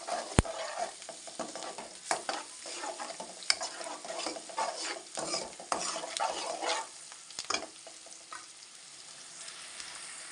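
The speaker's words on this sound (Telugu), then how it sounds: "ఈ పసుపు యాడ్ చేసినాక ఇలా మిక్స్ చేసుకోవాలి." Fried onions with turmeric in a pan for egg curry, stirred with a spatula: irregular scraping and clinks over a soft, continuous sizzle, fairly close, with a sharp knock near the start.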